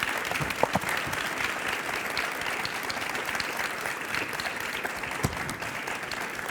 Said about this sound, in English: Ladies and gentlemen, a round of applause for our speakers.